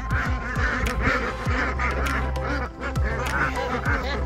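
Ducks on a homestead quacking repeatedly in a busy, overlapping chorus, loud and close, with a few honk-like calls mixed in and no clear talk.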